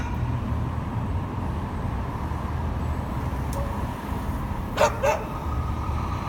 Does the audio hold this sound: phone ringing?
no